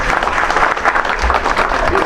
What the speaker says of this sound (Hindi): सब जोरदार ताली बजाएं